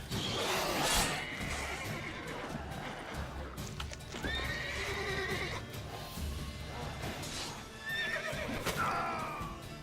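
Several horse whinnies in the video game The Witcher 3 ring out over clopping hooves and a busy, rumbling background, loud and close, repeating across the stretch.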